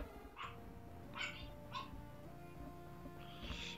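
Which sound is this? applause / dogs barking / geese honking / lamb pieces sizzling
dogs barking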